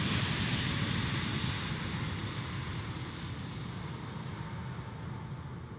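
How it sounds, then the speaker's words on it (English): Air Baltic airliner arriving from Riga on approach to land at Zurich Airport, a loud sustained broadband jet roar that fades slightly over several seconds, with no voices. "Air Baltic landing from Riga."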